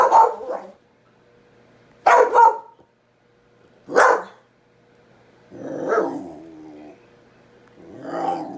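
A dog barks at a kitten in short separate bursts, sharp close woofs at first, then lower, drawn-out growly barks with quiet pauses between each one.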